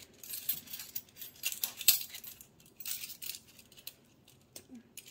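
A metal tablespoon is pulled from a collection of kitchen utensils, giving scattered light clinks and jangles with one sharper metallic clink near the middle, all fairly faint in a quiet room.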